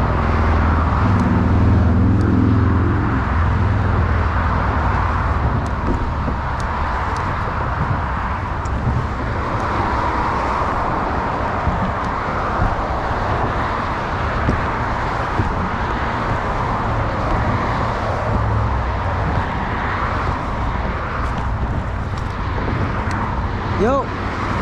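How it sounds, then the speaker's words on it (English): Steady road traffic rumbles continuously near the bay at a New York fishing spot, with a heavier low drone near the start and a constant wash of passing cars. "Sorry if the car noise is very not good."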